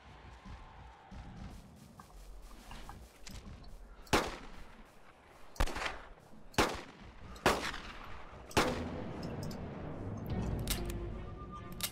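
Five revolver shots in the hunting video game Carnivores: Dinosaur Hunt, sharp and fairly loud, fired at uneven intervals of a second or two over quiet ambient outdoor noise.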